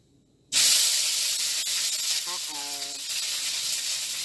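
Rice hitting hot oil in a pan bursts into a loud, steady sizzle that starts abruptly and keeps hissing close up, with a brief higher whine partway through.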